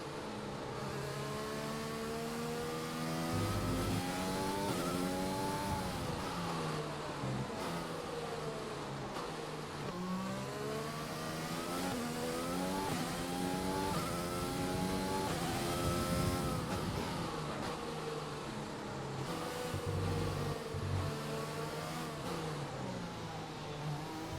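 F1 race car engines in the racing game F1 2020: a steady, loud high-pitched engine whine that climbs and drops through repeated gear shifts, with occasional cars passing close by.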